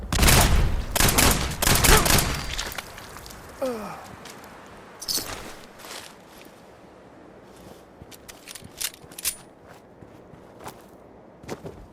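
Gunfire in the Fallout 4 game, the Banishment quest: a dense burst of rapid shots in the first two seconds, then scattered single shots, clanks and footsteps with quieter gaps between.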